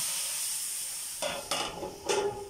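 Garlic frying in a pan gives a steady, fairly loud sizzle and hiss, broken near the end by a few stirring scrapes and clinks of a utensil against the pan.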